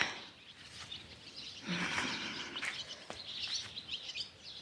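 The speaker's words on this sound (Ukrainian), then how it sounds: "тихенько на вулиці, пташки співають, сонечко встає" Birds chirp and sing outdoors in a quiet setting at sunrise, with several overlapping calls and short tweets continuing throughout.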